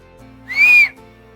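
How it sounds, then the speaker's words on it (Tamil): A rabbit makes a single rising-then-steady high-pitched whistle lasting about half a second, loud and clear over a faint background hum. "முயல் ஒரு விசில் சப்தம் செய்தது."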